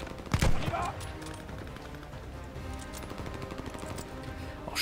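Machine gun fire in the PS5 shooter Call of Duty: Vanguard, a loud opening burst followed by steady rapid shots running under game ambience, with a voice talking briefly near the start.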